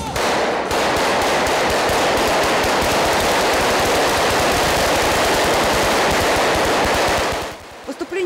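Sustained rapid gunfire during a police demonstration, loud and close, bursts running together almost continuously for several seconds before stopping abruptly.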